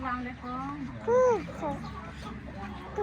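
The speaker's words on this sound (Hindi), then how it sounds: "चूचा, मुर्गी के 3 चूचे हैं।" A hen clucks nearby with a few high chirps from her three chicks, while people talk in the background.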